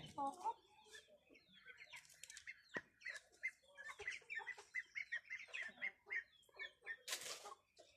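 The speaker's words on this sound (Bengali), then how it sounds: "এখানে দেখাচ্ছি মোরগ মুরগি আবার এক নতুন কিছু হাঁস" Village chickens and roosters cluck in quick, irregular bursts close by, with a few sharper squawks and some low background voices in a rural yard.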